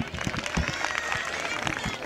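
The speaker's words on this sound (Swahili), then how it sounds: "Makofi mengi tafadhali." A crowd applauds at a sports bonanza where a goat is the winner's prize, with dense, continuous clapping that holds steady and fairly loud for the whole stretch.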